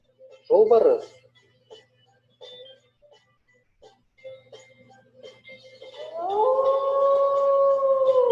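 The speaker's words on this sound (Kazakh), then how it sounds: "Қасқыр." A wolf howls in a long, rising, sustained tone that holds steady over the last few seconds, following a brief louder cry and faint scattered sounds earlier.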